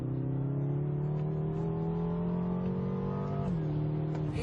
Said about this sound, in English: It's got a really unusual note for a V8.